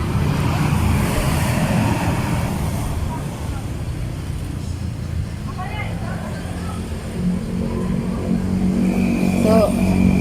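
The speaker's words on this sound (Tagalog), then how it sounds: "parang binubusog ko yung mga mata ko mga langga sa ingay, madaming sasakyan" Steady traffic noise from many vehicles, cars, buses and trucks passing around a town plaza, a continuous loud roadway rumble with occasional engine revving and a faint horn-like tone near the end.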